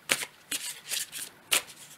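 Oracle cards are shuffled by hand in quick, crisp riffling bursts, about five short rustles in two seconds, close and fairly quiet with no voices.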